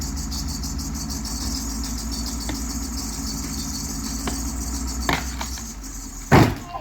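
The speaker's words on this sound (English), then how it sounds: "All right, let me bring the truck up." A Ford F250 Powerstroke 4x4 diesel truck rumbles steadily nearby as it is brought up, a low continuous engine drone with a short, louder burst of noise near the end.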